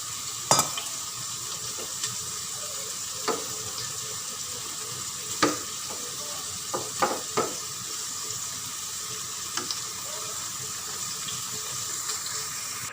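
Coconut milk poured into a pan of sizzling tilapia for ginataang tilapia, a steady hiss and sizzle with occasional sharp pops and stirring clinks throughout.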